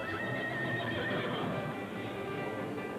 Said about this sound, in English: Watch the horse.